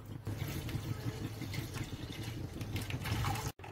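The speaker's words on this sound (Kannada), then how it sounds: "ಅರ್ಧ ಲೀಟ್ರ್ ಹಾಲು ಹಾಕ್ತಾ ಇದ್ದೀನಿ" Half a litre of milk poured into a pan for homemade kulfi, a steady close liquid trickle and splash running continuously for a few seconds before stopping abruptly.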